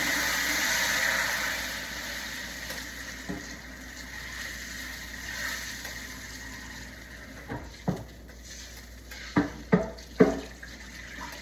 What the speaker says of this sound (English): all you have to do is just pour some water into it, let it soak for a bit